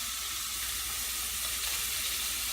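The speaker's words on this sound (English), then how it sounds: "I'm going to add a little bit more olive oil into the pan." Shrimp sizzling in olive oil in a pan, a steady close crackling hiss running throughout with no talk.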